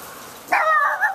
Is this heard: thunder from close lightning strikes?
no